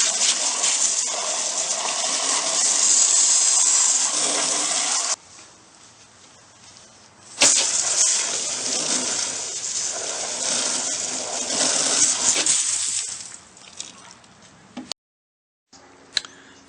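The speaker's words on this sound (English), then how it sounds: "What it looks like when you clean this out under pressure instead of just putting it into a cup of water" Tattoo equipment blasted clean with a pressurized water spray makes loud, close hissing bursts that stop abruptly, pause, then resume in a second long gush before cutting out again, with no voices.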